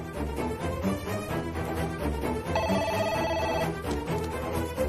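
A telephone ringing on an outgoing call, repeated ring tones over a busy layered background, with no speech.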